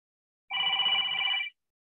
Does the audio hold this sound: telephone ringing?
yes